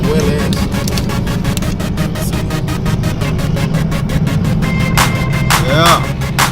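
Motorcycle riders pop wheelies on a country road, engines droning loud and close with a steady rumble and a sharp rev near the end.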